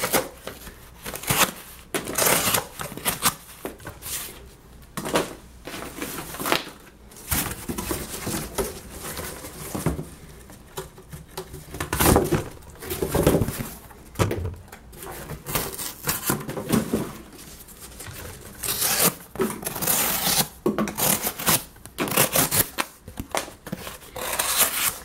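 A knife slices through double-walled cardboard in a series of rough, scraping, crunching strokes that come in bursts with short pauses between them, close up and fairly loud.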